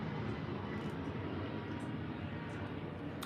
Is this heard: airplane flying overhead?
yes